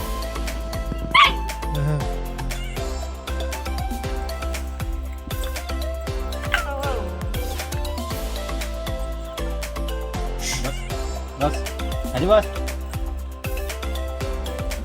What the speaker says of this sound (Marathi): सगळ्यात डेंजर कुत्रा